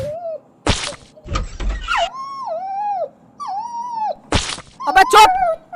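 A dog whimpers indoors in a series of short, rising-and-falling whines, broken up by a few sharp knocks and thumps, with people talking around it.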